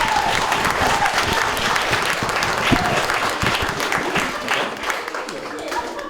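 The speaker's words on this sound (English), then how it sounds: "please give a round of applause for the excellently shirted Brett Salsbury." Loud, continuous applause from a crowd at a live literary reading event, sustained throughout with dense clapping and some crowd noise and faint voices mixed in.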